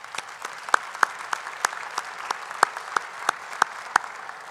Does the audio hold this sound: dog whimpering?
no